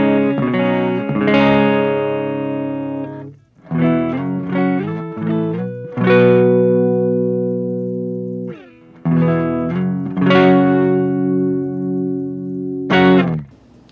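A Gibson Les Paul Standard 60s electric guitar on the neck pickup, dry with no effects, playing sustained chords and quick note runs, loud and close, alone.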